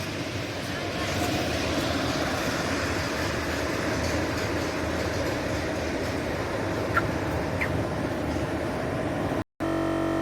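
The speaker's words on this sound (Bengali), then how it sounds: "এটা হচ্ছে সেই ছোট ট্রেন" A small amusement park train runs steadily and close by, giving a continuous rumbling rattle that holds at an even level for the whole stretch, with a brief dropout near the end.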